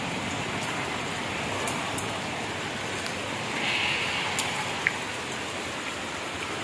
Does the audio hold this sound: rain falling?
yes